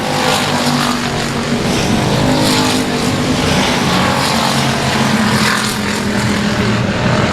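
Loud, continuous engine roar of race cars at Cotton Bowl Speedway, the pitch shifting and surging as several cars pass close by with no talk over it.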